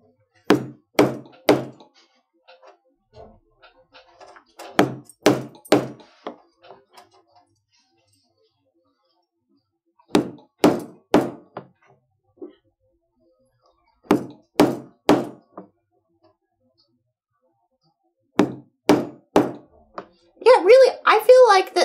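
A mallet strikes leather tooling stamps in clusters of three or four sharp, loud thunks separated by pauses, with brief speech near the end.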